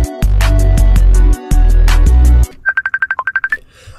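A phone ringtone from the John Pork horror video game: a loud, dense musical ring plays for about two and a half seconds, then gives way to a quick run of short, beeping electronic tones.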